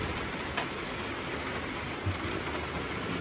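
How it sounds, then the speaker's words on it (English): Rain pattering on a greenhouse gives a steady, even hiss of drops with a few slightly louder taps, filling the whole stretch with no voices. "The rain we're getting"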